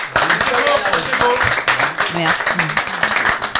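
Small outdoor summer-festival audience in a French village claps for a singer after her song, a brief patter of hands close by, mixed with voices talking over it.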